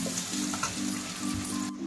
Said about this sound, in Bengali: তারপর আমি গোবিন্দভোগ চালটাকে ছেড়ে দিলাম। এটাকে দিয়ে আমি 2 মিনিট নাড়তে থাকবো